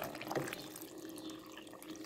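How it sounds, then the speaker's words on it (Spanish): Water pours into a blender jar for watermelon agua fresca, a steady close splashing stream running for about two seconds with a light trickling texture. "Agregamos un poco de agua"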